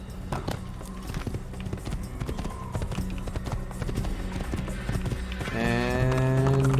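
Rhythmic hoofbeats of a galloping, jumping horse in Assassin's Creed clatter steadily over game music, swelling louder near the end as a rising tone plays.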